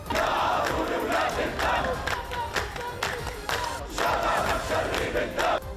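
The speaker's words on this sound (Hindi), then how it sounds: "लोग तालियां बजाकर नारे लगाने लगे।" Street protest crowd in Ramallah clapping and chanting slogans, rhythmic shouted chants rising and falling in waves over steady hand claps, loud and dense with many voices.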